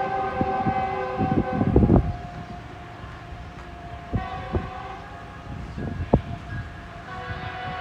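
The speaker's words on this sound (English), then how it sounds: "We'll go back to the BNSF freight train right now." A BNSF freight train rolls past at HighGrove, a steady rumble of wagons with irregular clanks and squeals, and a horn-like tone sounding through the passage.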